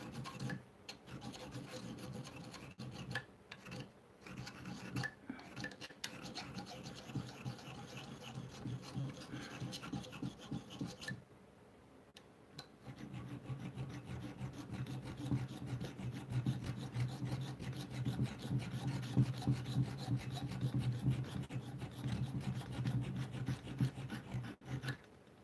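Hand-forged homemade knife having its tip and edges sharpened, a close steady rasping scrape repeated in quick strokes, briefly pausing midway then resuming more strongly and continuing to the end.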